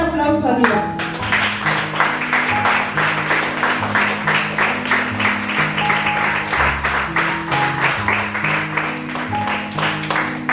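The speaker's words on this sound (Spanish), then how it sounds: "Dar un aplauso a Dios." Congregation applauding for God during a Spanish-language Christian church sermon, steady dense clapping over a continuous musical backing with sustained keyboard or organ notes, loud and unbroken throughout.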